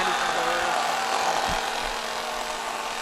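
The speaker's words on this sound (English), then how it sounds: "It was blasted out by the chainsaw here." A chainsaw runs close by at a motocross race day, filling the whole clip with a loud, steady buzzing drone and no clear pauses.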